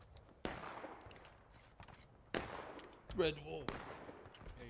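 Sharp gunfire volleys crack out at intervals in a video game battle, several loud separate bursts against a low background, while a voice speaks briefly between shots.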